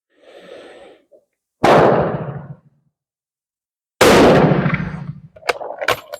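Two loud rifle shots from an 8x56R Kropatschek fire-forming .348 Winchester brass, each a sharp blast with a long decaying tail, a second or two apart, followed by some quieter clicks and handling noise.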